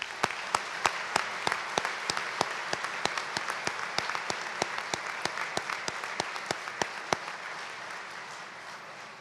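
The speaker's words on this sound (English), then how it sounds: "Let's applaud their accomplishments as well." Audience applause at an Eagle Scout dinner, with individual claps ringing out clearly over a steady bed of clapping that carries on for several seconds and tapers slightly toward the end.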